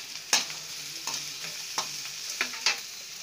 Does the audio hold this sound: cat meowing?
no